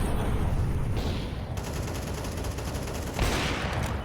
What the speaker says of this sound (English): The wall bang attempt trying to go through